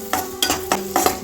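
Onions with green chillies and curry leaves sauté in a pan: a spatula scrapes and stirs in four regular strokes over a soft sizzle, close up and with no voices.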